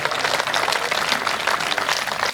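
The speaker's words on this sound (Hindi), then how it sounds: "जब कोई पहली बार आए तो उसके स्वागत में तालियां और विदाई में तालियां कैसी बजनी चाहिए" Dense audience applause fills a hall at a Hindi comedy talk, steady and loud throughout with many hands clapping at once and no break.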